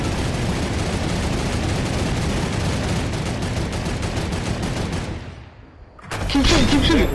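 Rapid dense gunfire in a shooting video game, a loud continuous barrage for about five seconds that fades out before a burst of game noise returns.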